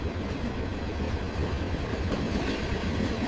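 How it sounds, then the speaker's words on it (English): Freight train hauling copper cargo from a large copper factory, a continuous dense rumble with rolling rail clatter, close and steady throughout, no voices. "Copper cargo transported by freight train from the world's biggest copper factory."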